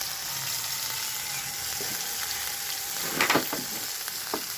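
Brinjal fries in oil for a pabda fish curry, a steady hiss of sizzling with a few sharp crackles and a short clatter of stirring near the end, no voices.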